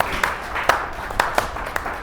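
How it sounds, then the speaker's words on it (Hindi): A church congregation claps and applauds during a sermon on giving, with several distinct claps standing out from a steady wash of crowd noise. "बजाओ ताली जोरदार।"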